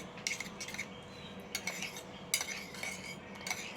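A spoon stirs a milkshake mixture in a container, giving a quiet run of light metallic clinks and scrapes in uneven bursts, close and soft with no voices.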